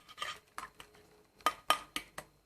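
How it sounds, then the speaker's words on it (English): Batter for low-carb carrot cake cupcakes stirred in a bowl, heard as a run of sharp clinks and scrapes of a utensil against the bowl, irregular and close, the later strokes louder, with no talking. "Give it a mix."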